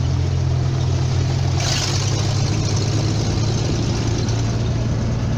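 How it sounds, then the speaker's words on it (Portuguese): Off-road Willys jeep fitted with an Opala six-cylinder engine running on a mud trail, a steady low rumbling idle with a broadband roar that grows slightly louder partway through, no speech. "Então é motor Opala 6 cilindros."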